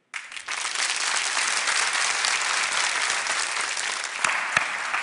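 Steady, dense applause from a comedy-show studio audience fills the whole stretch, loud and continuous from the start, with a couple of sharp claps near the end and no talking.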